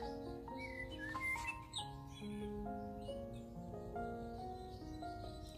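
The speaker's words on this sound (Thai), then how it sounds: "เป็นเสียงของ Blackbird นะคะ" Recorded blackbird song from a Peter Rabbit children's sound book, with bright warbling chirps over a gentle, steady musical backing, soft and continuous.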